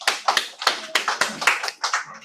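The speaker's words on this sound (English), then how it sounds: "Let's give Toastmaster Mia a round of applause." Sparse hand claps from a small audience at a Toastmasters club meeting, a handful of people clapping unevenly for about two seconds, fairly close, with a faint murmur of voices underneath.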